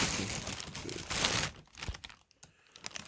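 A plastic bag full of nuts rustles and crinkles close up, loud at first and then thinning into sparser crackles.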